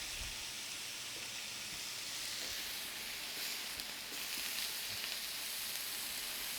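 Cut vegetables frying in a pan at a cookery showcase, giving a steady, soft sizzle with faint crackles and occasional light taps, no voices over it.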